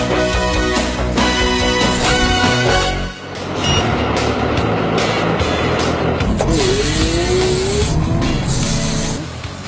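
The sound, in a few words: Case wheel loader struggling and sliding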